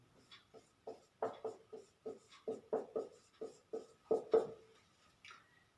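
A pen scratches on paper in a run of short, evenly spaced strokes while a math problem is worked out, each stroke a soft, close, distinct rasp with brief pauses between, and no talking.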